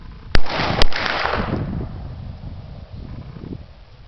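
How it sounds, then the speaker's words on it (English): Two sharp handgun shots about half a second apart, fired after a concealed carry draw, loud and close, followed by a rumbling outdoor wind-blown tail. "we're going to shoot it if we have to"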